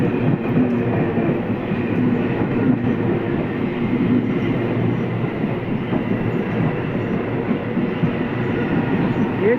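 Steady, continuous rumble of an EMU electric suburban train with AC motors rolling past near Palavanthangal station, loud and even throughout with a faint rhythmic wheel clatter, quiet motor hum and no talk.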